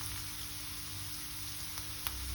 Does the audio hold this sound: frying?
yes